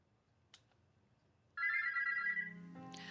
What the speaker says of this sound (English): The morning alarm gives you a heart attack.